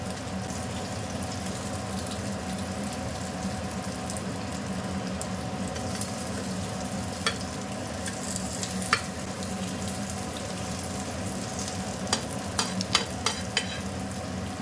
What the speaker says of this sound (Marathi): या वड्या एक साईडला व्यवस्थित फ्राय करून झाल्या की पलटी करून घ्यायचे